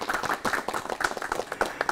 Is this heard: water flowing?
no